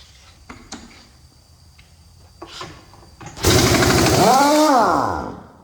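An Earthquake impact wrench drives a 1-inch socket on a Peterbilt 379 rebuild: a few faint clicks and taps, then a sudden loud, close burst of rapid hammering that rises and then falls in pitch before it winds down.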